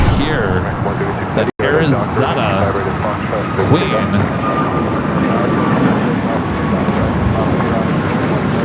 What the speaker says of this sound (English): American Airlines flight 813 coming in from Philadelphia, an A321 Neo.